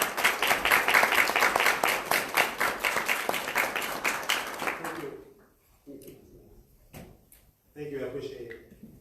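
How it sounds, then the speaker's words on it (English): An audience at a live community event claps in a dense, lively burst for an honoree. The applause fades after about five seconds, and then someone speaks over a quiet room. "Everybody, let's give a round of applause for Daryl Crater."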